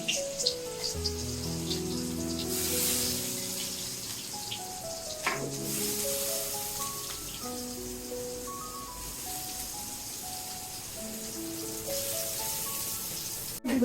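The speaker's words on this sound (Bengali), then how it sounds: "ভেজে নিচ্ছি।" Steady sizzling hiss of rice and lentils frying in a pan for khichuri continues throughout, with a melodic tune playing over it.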